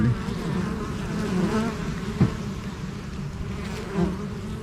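Honeybees buzzing at a hive entrance in autumn, a dense close drone with individual bees zipping past, continuous and fairly quiet with no voices.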